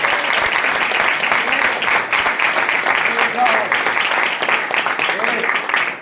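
Congregation applause at a church sermon, dense and loud clapping that runs continuously with little variation, mixed with some voices in the room.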